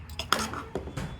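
Home-cooked biryani stirred in a pot after dum cooking, with a few scraping clinks of a metal spoon against the pot in short separate strokes, close and moderately loud.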